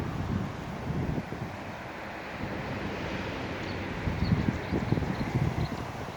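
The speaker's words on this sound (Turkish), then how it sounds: "rüzgarlı bir hava" Steady wind blowing across the microphone at the Büyükçekmece seaside, a continuous rushing roar with low gusty rumbles that swell and ease, no voices.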